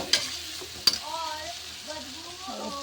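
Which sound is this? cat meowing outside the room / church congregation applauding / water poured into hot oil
water poured into hot oil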